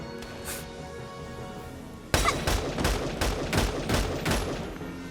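Rapid bursts of enemy gunfire in the tactical war game Valkyria Chronicles 4 break out suddenly after a quieter stretch, with repeated loud volleys crackling close and continuously for several seconds.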